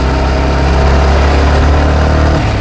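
Motorcycle engine running and pulling through the gears, a loud, close, steady low rumble with slight rises in pitch, no voices over it.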